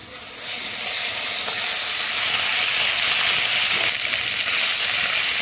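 Ginger dropped into onion and garlic frying in hot oil gives a steady, loud close sizzle and hiss that swells briefly near the end, with no talk.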